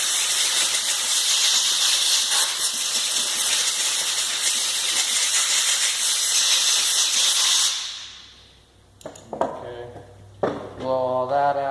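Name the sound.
compressed air blowing out a chainsaw during maintenance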